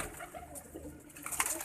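A prized pigeon coos softly in a short, faint murmur, heard close against a quiet background.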